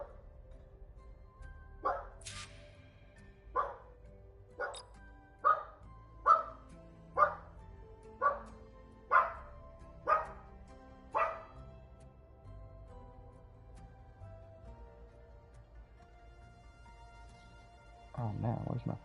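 A dog barks about nine times in a loose, irregular series, loud and close, with a brief burst of other noise near the end.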